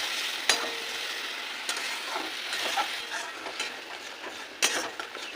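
Spice paste sizzles softly in oil as it is stirred and fried for a yogurt tilapia curry, a steady low crackle with a few sharp scraping knocks, and no voices.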